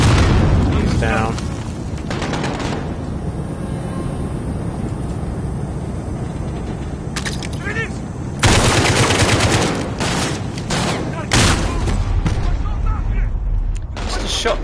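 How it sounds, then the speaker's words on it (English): A shotgun goes off in a Modern Warfare campaign video game with a few heavy, booming blasts among other game noise, while people talk over the action. "It's a shotgun."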